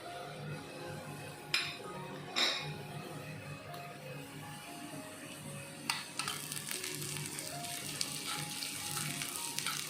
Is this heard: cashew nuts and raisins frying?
yes